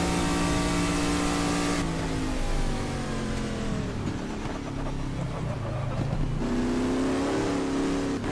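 A racing car in GT Legends drones at high revs throughout, engine pitch sliding down and climbing again between gear changes, loud and continuous with no pauses.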